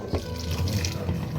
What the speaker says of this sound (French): Attends, je mets maintenant de l'eau. C'est de l'eau bouillie.